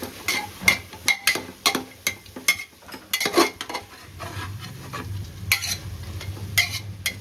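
Spatula scraping and clinking through fenugreek pulao in a pan as chilli powder is stirred in, with a quick run of close, sharp metallic scrapes followed by a softer, steady sizzle.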